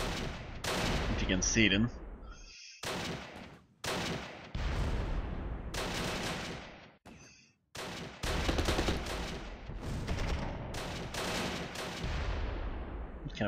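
Sharp bursts of gunfire and machine-gun rattle fill a Close Combat battle, coming in loud clusters split by brief silences, while someone speaks over parts of the shooting.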